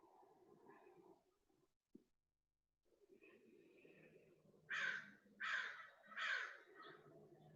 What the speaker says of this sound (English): I have a crow squawking at me right now